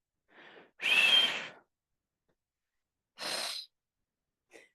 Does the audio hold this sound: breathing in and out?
yes